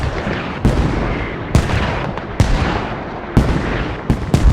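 Mortar fire in Squad, a 20-versus-20 battle on the Kohat map: a run of heavy booming blasts, five or six sharp impacts spaced about a second apart, loud with rumbling decay between them.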